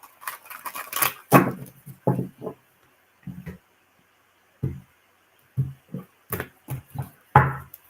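Tarot cards shuffled by hand at close range, short bursts of papery riffling and tapping separated by brief pauses, with no talking.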